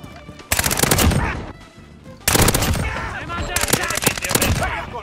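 ISO submachine gun in Call of Duty Modern Warfare fires in three rapid automatic bursts, each a loud, close, tightly packed rattle lasting about a second, separated by short pauses.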